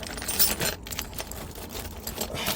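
Metal keys on a ring jangle and clink continuously while the ignition key for a Freightliner Cascadia truck is hunted for; the jingling sounds close and busy throughout, with no talk over it.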